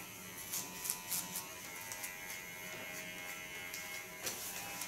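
Electric hair clipper with a blade set about 4 mm long, held against the back of a head as a comb, giving a steady close buzz with small bumps and scrapes as it moves through hair.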